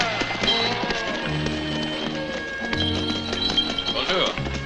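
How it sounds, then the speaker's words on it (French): A lame horse clip-clops steadily under someone speaking French, the hoofbeats mixed with music in a busy, fairly loud scene. "j'ai un cheval qui boite et je suis pressé"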